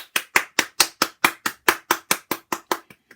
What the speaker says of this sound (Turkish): Evet tek ben alkışlıyorum.